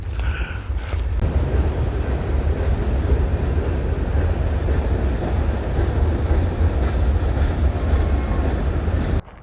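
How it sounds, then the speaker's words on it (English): A train rumbles past nearby, a loud continuous roar of wheels and rattling cars filling the scene almost without a break. "And just passing shortly, hilariously, is the train."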